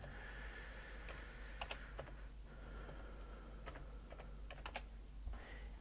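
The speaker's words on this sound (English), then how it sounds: "I'm not doing very good typing today." Quiet, close typing on a computer keyboard while entering registration details, irregular clusters of soft clicks and taps with short pauses between bursts.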